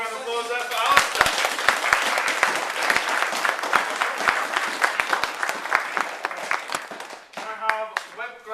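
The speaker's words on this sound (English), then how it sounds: "Round of applause there for Alistair." A room of attendees at a 24-hour Raspberry Pi hackathon in Leeds breaks into steady, dense applause that carries on for several seconds before thinning out near the end, with a voice briefly audible over the clapping.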